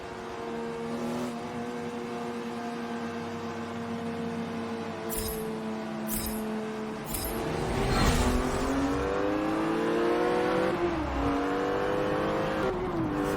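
A sport GT icons division race car in Forza Motorsport 7 drones steadily at close range, its engine pitch climbing and shifting through gears with brief sharp bursts, alone without voices.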